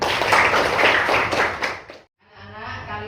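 A classroom of children clapping in a burst of applause, a dense wash of hand claps that fades and stops, followed by a brief low murmur.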